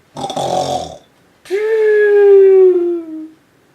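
A voice imitates a king snoring in an audio story: one short rough rattling breath, a pause, then a longer droning, moaning snore that slowly fades, loud and close.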